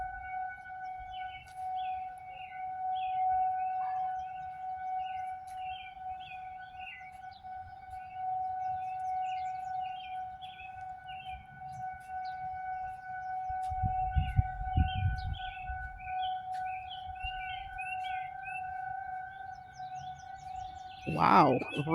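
An outdoor civil defense siren sounds during its monthly first-Friday test, a steady far-off tone holding for the whole stretch while birds chirp nearby, with brief rumbles and handling noise near the end.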